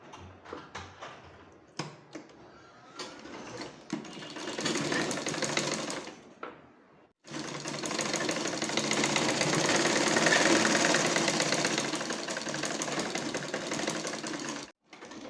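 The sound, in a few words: sewing machine stitching bra parts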